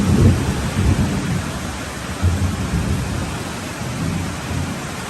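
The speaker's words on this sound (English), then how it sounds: "You're all of a sudden in the middle of an afternoon shower in Guanacaste." A sudden, heavy afternoon downpour in Guanacaste, Costa Rica roars as steady dense rain, with low thundery rumbles beneath the constant hiss, close and enveloping.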